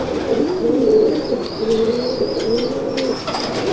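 Teddy breed pigeons coo close by in a Lahore loft, a run of soft, throaty repeated coos that rise and fall in overlapping phrases, with a faint higher chirp at times.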